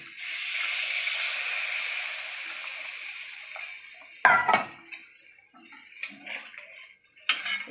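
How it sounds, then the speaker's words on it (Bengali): Water being poured into a pot of potol korma, a pointed gourd curry, giving a steady close splashing pour for several seconds, followed by a few clinks and scrapes of a utensil against the pan. "এই দেখেন জলটা ঢেলে দিচ্ছি।"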